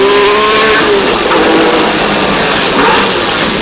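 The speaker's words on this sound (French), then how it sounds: "il faut utiliser toute la surface du macadam, du bitume, et c'est l'accélération à nouveau" A Renault Alpine A442B race car roars loudly and steadily as it accelerates, its engine note rising in a continuous, close, full-throttle drone with no talk over it.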